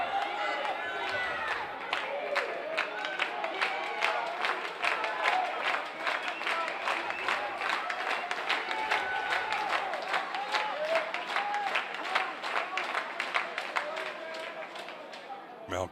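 Baseball fans at a college championship game clap in a steady, rhythmic beat from the stands, the even claps repeating throughout at moderate distance, with crowd murmur beneath.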